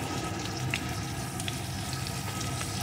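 Papaya pieces fry with chilli powder, turmeric and salt for an egg papaya curry, producing a continuous watery sizzle and bubbling at moderate loudness with occasional faint stirring scrapes.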